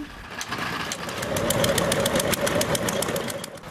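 Engines driving oil wells run nonstop under plastic roofs, a steady mechanical chugging drone with rapid regular knocking pulses, heard from some distance and holding at a fairly even level.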